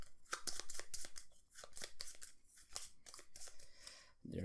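Automa cards from the Wingspan board game being shuffled by hand, a quick run of crisp, papery riffling taps and rustles close by, with no talking.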